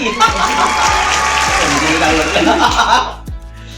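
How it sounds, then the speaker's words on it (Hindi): Clapping and laughter break out during a panipuri eating competition game show, with a host's voice continuing over the noise; the applause is dense and steady for about three seconds, then fades out. "ताली"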